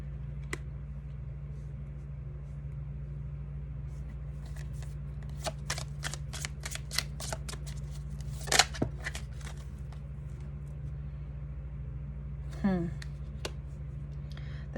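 Tarot cards are shuffled by hand: a run of quick crisp riffles and snaps, close and moderately loud, over a steady low background hum.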